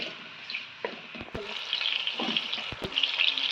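Onions frying in about one and a half cups of hot oil for biryani, a steady broad sizzle with a few stirring knocks and scrapes, rising slightly toward the end.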